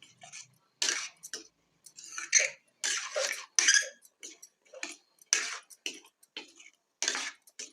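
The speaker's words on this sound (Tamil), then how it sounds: "தண்ணி சேர்த்துட்டு நல்லா கலந்து விட்டுடலாங்க." Egg gravy being stirred in a pan after water is added, giving a close, irregular run of light clicking and scraping taps of a spoon against the pan, separated by short pauses.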